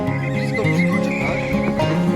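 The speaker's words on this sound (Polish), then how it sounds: "Ale macie konia, jak z bajki." A horse at a riding camp gives a loud, wavering whinny close by, with a few hoof clops mixed in and almost no talk.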